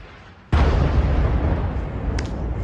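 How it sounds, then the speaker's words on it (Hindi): A missile impact in Tel Aviv during the Iran–Israel war sets off one sudden, very loud blast close by, followed by a heavy rumbling roar that hangs on for the rest of the moment. "एक बहुत जोरदार धमाका हुआ है। इसका मतलब नजदीक में ही कोई या तो मिसाइल का टुकड़ा आके गिरा है या मिसाइल का इम्पैक्ट हुआ है।"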